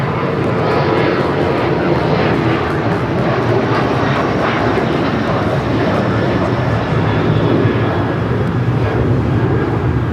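Boeing 737-800 jet taking off at LAX, a loud, continuous broadband engine roar that holds steady throughout, heard at close range.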